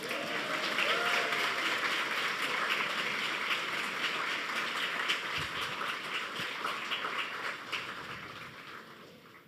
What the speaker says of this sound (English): You can give applause, it's okay.